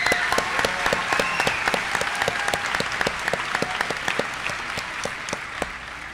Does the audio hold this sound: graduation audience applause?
yes